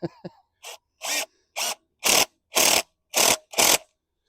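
A cordless power drill whirs in seven short, evenly spaced bursts of rising loudness while someone tries to tighten the bit in its chuck, close and clear with brief clicks at the start.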